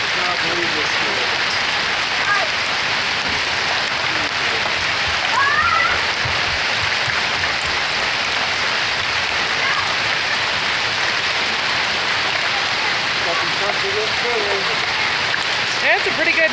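Hailstones of mixed sizes, small and large, pelt down steadily in a spring hail storm on the Rockies Front Range, a dense continuous patter with occasional sharper impacts throughout.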